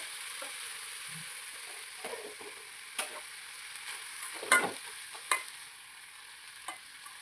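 Vegetable thoran being stirred and fried in a pan, with a quiet steady sizzle broken by soft scraping strokes of the spoon and a few sharper clinks, close and alone without talk.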